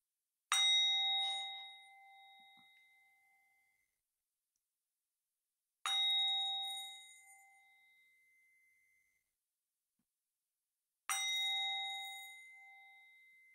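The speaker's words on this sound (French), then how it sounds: "Trois petits coups de bol tibétain déjà." A Tibetan singing bowl is struck three times at even intervals, each bright metallic ring sustaining and slowly fading before the next strike, alone in a quiet room.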